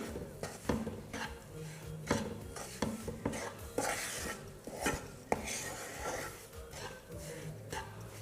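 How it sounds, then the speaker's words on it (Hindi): A spoon stirs a powdered sugar mixture in a pan over a low gas flame, making repeated soft scraping strokes in an uneven rhythm, close up, with no talk. "और अब हम इन दोनों चीज़ों को अच्छे से पहले मिला लेंगे।"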